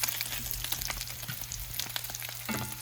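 Four strips of bacon sizzling in a pan, a steady close crackle and spatter with scattered pops, plus a brief scrape of stirring near the end.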